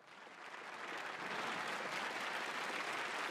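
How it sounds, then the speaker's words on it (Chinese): Warm, sustained applause from a large audience at a regional circus and rodeo show in 1979, rising over the first second and then holding steady and dense. "大家都热烈的掌声啊"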